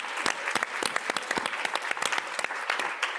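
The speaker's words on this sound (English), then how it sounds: "give yourselves a round of applause" Applause from a conference audience, a dense crowd clapping steadily and close for the whole stretch, with no voices over it.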